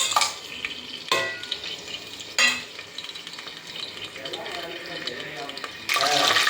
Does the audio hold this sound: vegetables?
yes